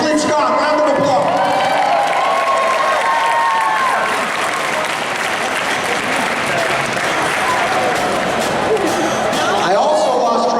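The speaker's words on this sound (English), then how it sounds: "Clint Scott, round of applause." Applause and cheering from a crowd at a hot dog eating contest qualifier in Houston, sustained and loud throughout, with scattered whoops rising above the clapping.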